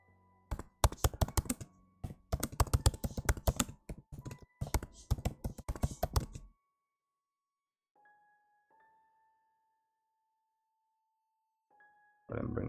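A computer keyboard clatters with quick, irregular bursts of keystrokes for several seconds, close and clear, then stops, leaving near silence with faint electronic tones.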